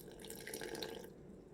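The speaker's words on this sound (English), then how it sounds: "Usually I pour it in until it gets to just the right consistency." Water poured into a jar while mixing homemade yeast, a soft close trickling and dripping that runs steadily for about a second and then fades.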